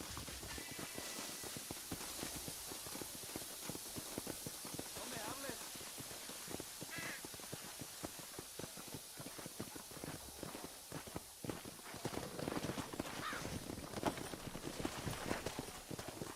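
Horse hooves clip-clop steadily in the Red Dead Redemption video game as riders travel together, a continuous patter of hoofbeats under game music and ambience, with a voice talking over it.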